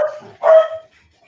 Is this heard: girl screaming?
no